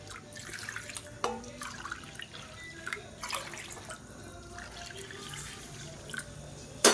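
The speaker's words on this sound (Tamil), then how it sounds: "ரெண்டு கப் சேமியாவுக்கு நாலு கப்பு தண்ணி ஊற்றிக்கலாம்" Hot water splashes and trickles into a cooking pan at close range, with dripping and a few clinks against metal.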